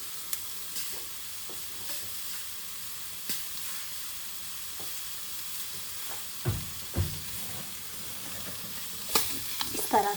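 Seekh kebabs fry in a pan with a low, steady sizzle, broken by occasional soft clicks and a few louder knocks as they are moved, quiet and close throughout.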